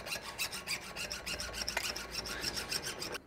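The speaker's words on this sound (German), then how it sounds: "Wir probieren es wie immer mit der Pucksäge." A small hacksaw rasps back and forth through a bicycle lock on a Cube RFR CMPT bike, steady close strokes repeating about twice a second with no talk.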